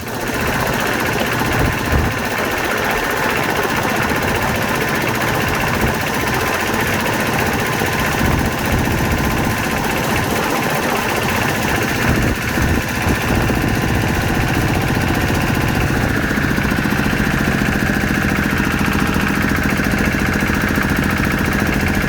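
A small, lightweight Thai farm vehicle with an 11-horsepower engine runs continuously, its loud, steady chugging drone filling the whole stretch without a break.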